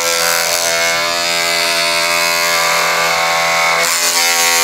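A SkinPro Sonic 3 in 1 facial cleansing device running, with its brush head attached: a steady, loud, close electric buzz with a rich humming tone that holds without a break for several seconds.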